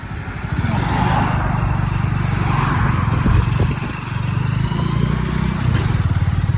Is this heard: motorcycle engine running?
yes